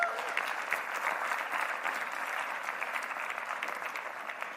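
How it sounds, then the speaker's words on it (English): A crowd at a biotech startup demo day claps steadily in a sustained round of applause, dense and even throughout with no talk over it. "that's worth an absolute round of applause"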